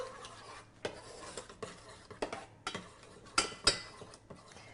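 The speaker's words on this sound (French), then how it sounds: "et là, je mélange un petit peu" A spoon stirs matcha into chia pudding in a bowl, giving soft scraping and a few sharper clinks against the sides, irregular and close, with no talking.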